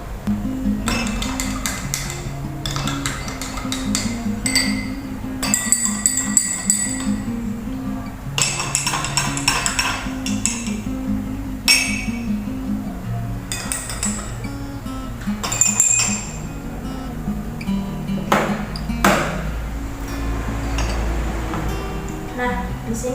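A papaya solution stirred in a glass during a simple biochemistry vitamin and mineral test, giving repeated light clinks and taps in irregular bursts over a steady low background hum.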